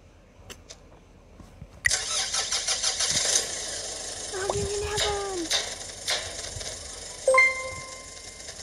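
A car engine cranks and catches in a video game, a sudden loud roar that settles into a running rumble with rising whines and a few clunks, and a voice talks partway through.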